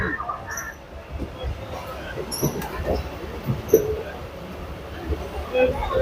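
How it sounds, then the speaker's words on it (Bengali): A train rumbles steadily as it pulls away from a Kolkata platform at 7:15 am bound toward Bakkhali, with a low continuous drone, faint bird chirps and murmuring voices in the background. "সকাল সাতটা পনেরো ট্রেন আমাদের নির্ধারিত সময় প্ল্যাটফর্ম ছেড়ে দিল"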